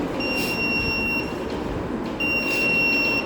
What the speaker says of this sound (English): you will hear the buzzer making a beep sound every second